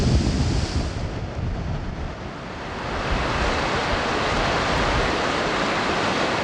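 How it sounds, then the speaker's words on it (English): Steady roaring canyon wind in Labyrinth Canyon buffets the microphone, a dense rushing wash that swells and eases slightly, with no voices. "We have powerful gusts of wind sweeping through"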